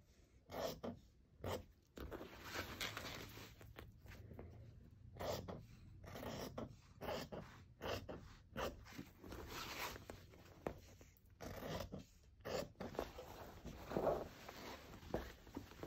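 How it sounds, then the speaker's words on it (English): Scissors cutting through a paper or fabric pattern for a pleated mask, a run of short crisp snips and rustles in irregular bursts, close and fairly quiet, without talk. "And I will cut out the rest of my pattern."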